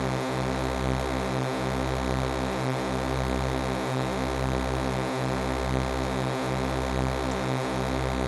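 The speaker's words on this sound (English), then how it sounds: "Now we're starting to sound a little bit more like a drone. Those interference patterns." Steady synthesizer drone built from stacked sustained tones whose interference makes a continuous pulsing, beating texture, with a low throb repeating about every 1.2 seconds; loud and alone, with no voices.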